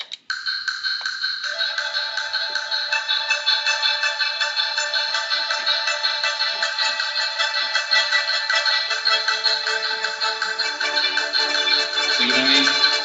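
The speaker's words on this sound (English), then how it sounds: "And you'll hear that in this piece by Adams called Short Ride in a Fast Machine." John Adams' orchestral piece Short Ride in a Fast Machine: bright, dense sustained brass and wind harmonies over a steady, rapid pulsing beat, loud and continuous, with a lower voice entering near the end; no talking.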